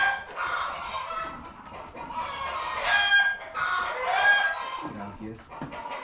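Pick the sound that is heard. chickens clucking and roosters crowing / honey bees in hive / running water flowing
chickens clucking and roosters crowing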